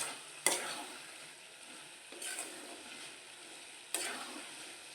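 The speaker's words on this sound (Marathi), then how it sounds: "हा मसाला एक दोन मिनटासाठी आपण शिजवून घेणार आहोत" Masala for a paneer cheese dosa cooks in a pan with a gentle, steady sizzle, while a spatula scrapes through it three times in loud strokes. No one speaks.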